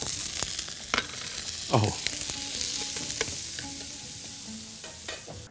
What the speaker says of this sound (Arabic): كده ادي عندي ثوم وبصل كده، نعصج اللحمة بتاعتي